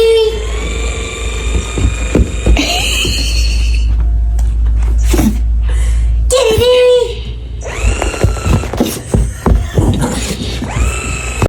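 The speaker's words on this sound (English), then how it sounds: "The sound a dog makes when it's overly spoiled." A pampered dog gives a run of high, drawn-out whines and moaning yelps, rising and falling in pitch with short breaks, loud and close, with faint background clatter.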